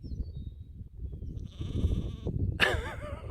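A sheep from a flock grazing alongside a bull herd gives a drawn-out bleat, then a sharper, louder bleat close by, over rustling outdoor background noise.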